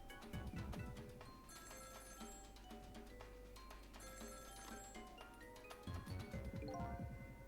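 A ringing internal phone in the video game Ghost Trick, with bright repeated ringing tones layered over steady musical background, continuous and fairly loud for the whole stretch.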